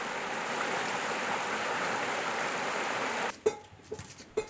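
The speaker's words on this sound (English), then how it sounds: "On the way back, the collected tubers are washed in running water." Running stream water flows steadily and fairly close for over three seconds as collected roots and tubers are washed by tribal women in Odisha, then it cuts to quieter sparse splashes and knocks.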